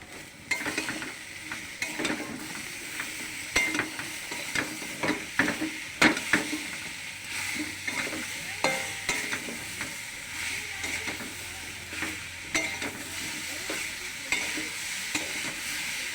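Thankuni leaf paste frying in a pan, a steady close sizzle with a spoon scraping and stirring through it in regular strokes, no talking.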